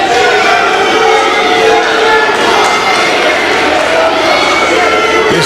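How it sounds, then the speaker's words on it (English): Wrestling crowd jeering JD Drake during his RCWC 2021 match against Baron Black, a dense, loud, continuous roar of voices filling the whole stretch without letup. "This crowd giving J.D. Drake an earful."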